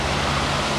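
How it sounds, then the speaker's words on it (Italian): Broad, steady rushing roar of the Valle Tegna waterfalls on the river La Foce, heard close, loud and continuous with no pauses or voices. "stupende queste cascate"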